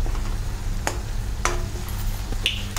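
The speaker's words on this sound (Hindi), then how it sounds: "अब इसको अच्छे से मिक्स करेंगे" Vegetable fried rice stirred in a hot pan after soy sauce and sriracha go in, giving a low steady sizzle with a few sharp spatula scrapes, close and moderately quiet.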